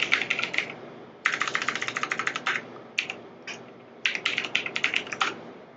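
Close, crisp keystrokes on a computer keyboard as a password is entered at a command-line prompt, coming in quick bursts of clacks separated by short pauses, alone with no talk.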